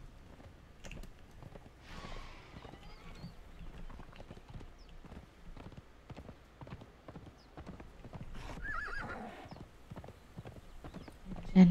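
Horse hooves clip-clop steadily in the video game Conan Exiles, a regular rhythm of moderately loud hoofbeats that keeps going for the whole stretch, with a brief whinny-like flourish near the end.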